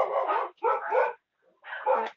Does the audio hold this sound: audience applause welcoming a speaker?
no